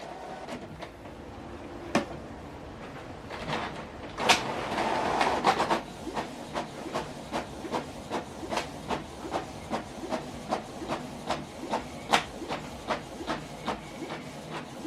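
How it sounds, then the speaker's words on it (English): A Canon TR7650 inkjet printer printing a document, opening with a whirring feed and hiss, then a steady series of rhythmic mechanical clunks as the print head and paper advance, close and moderately quiet. "So while you are printing document, you need to make sure this cover go up."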